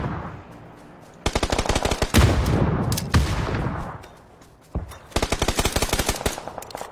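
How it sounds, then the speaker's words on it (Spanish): Bursts of rapid automatic gunfire in the game PUBG, sharp repeated cracks in two long volleys with a brief pause between, loud and close. "Estoy disparando detrás de la piedra, a ver."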